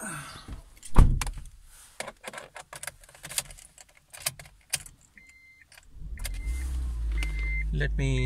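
Keys jangle and a car door thumps shut, followed by the whir of power windows and a low rumble inside the car, with a voice talking in between.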